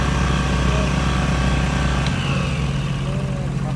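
A small engine runs steadily after its carburetor has been adjusted, chugging close by at a constant pace. People talk over it.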